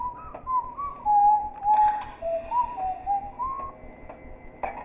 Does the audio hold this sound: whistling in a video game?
yes